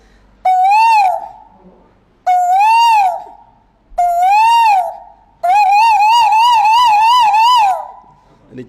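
A man imitates a koel with a run of clear whistled calls, three rising-falling notes at even spacing followed by a longer warbling phrase, loud and close with no background noise.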